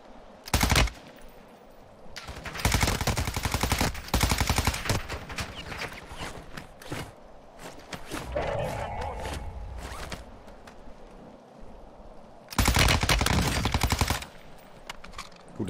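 Bursts of automatic gunfire from the video game Warzone, with loud rapid volleys near the start, through the middle and near the end, and quieter shots and game sounds between them.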